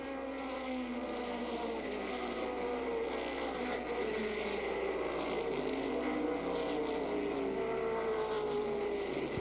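Stock race cars roar past on an oval track at the end of lap two, a continuous dense engine drone with overlapping pitch sweeps as the pack goes by, loud and steady throughout.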